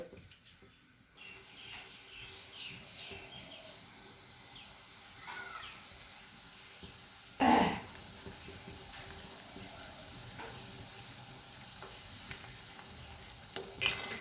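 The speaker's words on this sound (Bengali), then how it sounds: "আমাদের গ্রেভিটা ফুটে এসছে, কত সুন্দর ফুটছে।" Green jackfruit kofta gravy simmering and bubbling in a pan, a soft, steady hiss-and-bubble texture with one louder clatter near the middle and a faint knock at the end.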